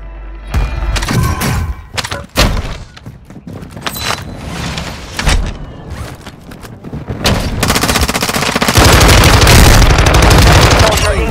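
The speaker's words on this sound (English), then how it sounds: "Hostiles called in an airstrike" Gunfire and airstrike explosions in Call of Duty: Warzone, a loud, busy stretch of sharp shots and thudding impacts that builds into dense, sustained rumbling blasts toward the end.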